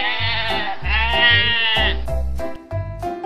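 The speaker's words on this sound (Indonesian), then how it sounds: "Ada kambing." A toy goat gives a loud, close electronic bleat in several repeated pulses with a wavering, buzzy tone, sounding alone with no talk over it.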